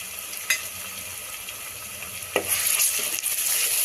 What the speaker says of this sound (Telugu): మనకి అల్లం వేసి పచ్చివాసన పోయేంత వరకు మనం ఫ్రై చేసుకోవాలి